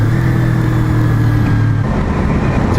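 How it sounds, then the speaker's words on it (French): A Honda VFR 750 V4 motorcycle engine runs loud and close, a steady throaty drone with a brief throttle blip that lifts the pitch before settling back to idle. "C'est ça le coup de gaz."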